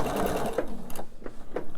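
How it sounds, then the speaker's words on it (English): A sewing machine stitching fabric seams on a quilt piece, running in a slow, steady series of quick mechanical stitching pulses up close, fairly soft and alone. "I'm going to sew these in the same manner."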